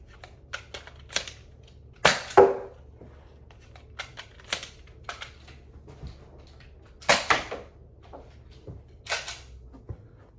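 A Zuru X-Shot Kickback blaster fires Adventure Force nipplehead-style darts in a series of sharp, close snaps, with louder shots standing out among lighter clicks and mechanical clacks in an otherwise quiet room.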